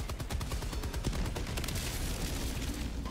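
Gunfire in a shooter video game, dense rapid bursts of automatic fire with booming impacts, loud and sustained with no pause.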